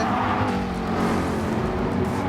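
Race cars lapping the Red Bull circuit in Gran Turismo Sport, a loud continuous engine drone with overlapping cars and a hint of tire squeal, no voices.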